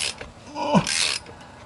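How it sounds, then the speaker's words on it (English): Ratcheting mechanism clicking during installation of a hybrid racing shifter in a Civic, a short close burst of metallic mechanical chatter with a brief louder creak in the middle. "You hear the ratcheting, you know that there's stuff going on."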